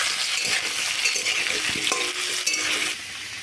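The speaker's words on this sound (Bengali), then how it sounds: "হলুদ আর লবণ দিয়ে আমি আলুগুলো ভেজে নেব" Potatoes frying with turmeric and salt as a spatula stirs them, a loud, bright sizzle with scraping strokes and a light metallic clink, close by and uninterrupted by voices.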